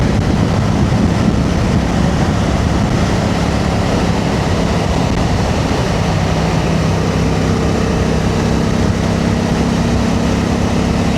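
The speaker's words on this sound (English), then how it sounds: "It's a parallel twin, but I'm not sure of the firing order, so it sounds more like a V-twin" A 2025 Honda Africa Twin Adventure Sports ES DCT with a chain-driven parallel-twin engine runs on the road, a loud, continuous throaty engine drone blended with wind roar, steady and close, with no talking.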